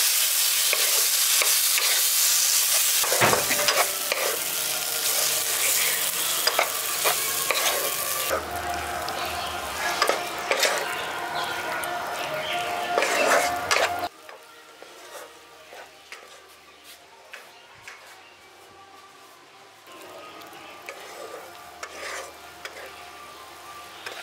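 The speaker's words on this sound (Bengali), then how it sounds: "বেগুনটা দিয়ে এটাকে ভালো করে মিশিয়ে দিচ্ছি।" Roasted brinjal is stirred and fried with spices in a pan for a village-style brinjal bharta, giving steady scraping stirs over a continuous sizzle that grows quieter partway through.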